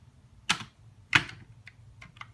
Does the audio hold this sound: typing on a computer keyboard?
yes